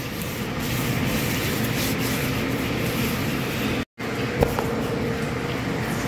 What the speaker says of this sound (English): We rub everything in, make sure you get it in all the slits that we cut in there